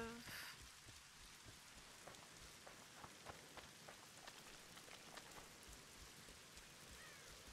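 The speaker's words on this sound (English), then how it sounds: "It's really raining now." Heavy rain in the video game The Witcher 2, a steady hiss of downpour with scattered pattering drops on surfaces, constant and fairly quiet for the whole stretch, with no talking.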